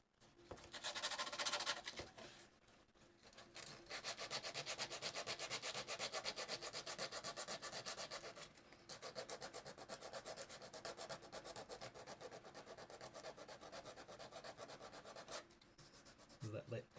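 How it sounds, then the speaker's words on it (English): Sandpaper rubbing steadily over a 3D printed plastic part, smoothing a rough overhang, in continuous close strokes that pause briefly a few times. "That overhang that was just a little bit rough there. It sands down really well though."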